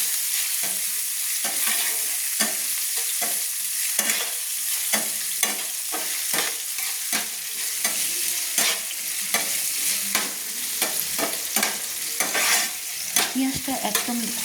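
Chopped onion stirred and fried in a pan for chire polao (flattened rice pilaf), a continuous sizzle broken by repeated scraping strokes of a spatula, close up with no talking.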